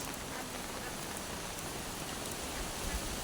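Steady rain from Cyclone Remal falls in a soft, continuous hiss over the coastal area of Assasuni, with no distinct drops or other sounds standing out.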